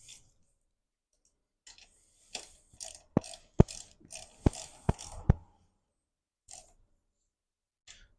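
A ratchet wrench tightens the shock absorber bolt on a Mondial HPS125cc motorcycle, giving short bursts of sharp metallic clicks followed by a run of distinct, evenly spaced loud clicks, with quiet gaps between them.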